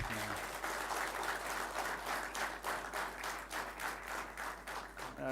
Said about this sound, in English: A round of applause for this boy.